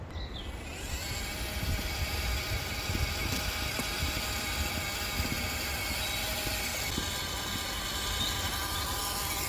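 Traxxas TRX4M 1/18 scale mini crawler with a tiny 180-size 87-turn motor at full throttle, giving a steady high electric whine with gear buzz and grinding chatter, continuous and close, with no talk.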